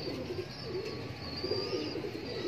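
Pigeons coo softly and repeatedly, a cluster of birds making low, rolling throaty calls close by over a steady background hum.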